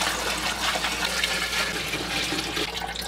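Tap water pours into an aquarium as a continuous, even gushing stream, close and moderately loud, with no one speaking.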